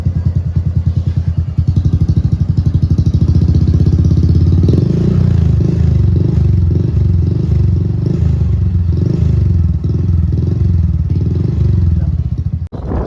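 A Honda Supra X 125 Fi motorcycle fitted with a racing exhaust idles with a steady, throbbing putter, then gets light, repeated blips of the throttle that swell the exhaust note and drop back, loud and close throughout.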